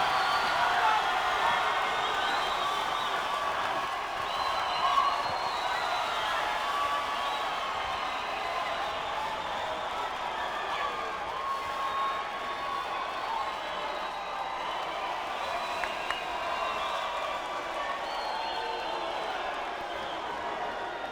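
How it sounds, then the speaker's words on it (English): Boxing-event crowd in a hall after a split-decision fight result, giving sustained applause and cheering with scattered whoops, a steady broad roar that holds evenly throughout. "a big round of applause for Salford's Marc Leach"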